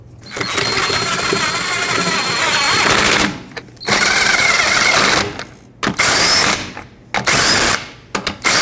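Wheel lug nuts on a 2003-2008 Toyota Corolla being run on and tightened with a power tool, loud close mechanical rattling bursts broken by short pauses, several separate runs in a row.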